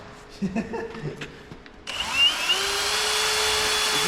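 After some brief rustling and faint voices, a power drill starts drilling into a trolley and whines steadily at close range until the end.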